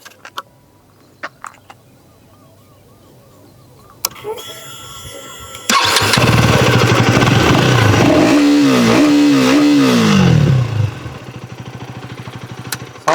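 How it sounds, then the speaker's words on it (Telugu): A 2024 KTM Duke 250 motorcycle with an underbelly exhaust, heard after a few clicks as the engine roars to life, holding a loud steady rumble with several rising revs before dropping back to idle. "సో ఇప్పుడు ఒకసారి ఎగ్జాస్ట్ నోట్ వినిపిస్తా."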